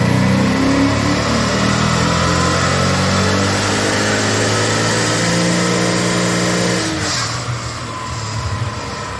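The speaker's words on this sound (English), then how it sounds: "These cars have a famously boring exhaust" A Maserati GranSport's engine roars loudly and steadily through the exhaust at high revs, pitch shifting as it runs, then drops off near the end.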